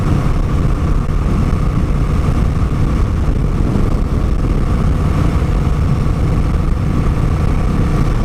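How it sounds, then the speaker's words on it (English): A Honda Rebel 1100 motorcycle engine growls steadily, a loud, rough low rumble heard close during a first ride, with no speech over it. "I'm surprised how much noise this engine makes. I thought it'd be quiet like the Magna, but it's not. It's quite growly."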